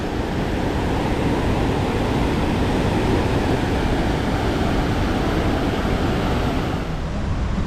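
A loud, steady roar of rushing water fills the scene, constant and broadband, heard up close at Niagara Falls, New York, with no voices.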